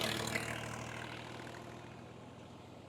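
A tractor-driven threshing machine runs with a steady, unbroken mechanical drone, low and constant throughout, during the wheat harvest.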